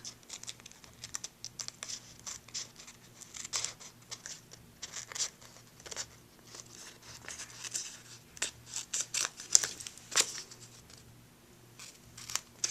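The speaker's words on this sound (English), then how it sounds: "Move our scissors along the edge." Scissors trim the edges of a paper Christmas card in a steady series of small crisp cuts, close and fairly quiet, with light rustling between snips.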